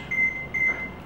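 Crock pot timer set for eight hours on low, giving two sharp electronic beeps in quick succession, clear and close against a quiet kitchen background.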